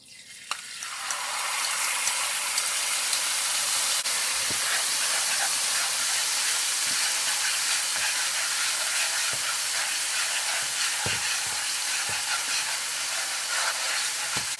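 Olive oil, a spicy seasoning blend and sesame seeds sizzle loudly in a hot pan on reduced heat, with a steady bright hiss that holds for the whole stretch, dotted with small pops and crackles.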